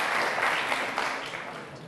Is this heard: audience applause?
yes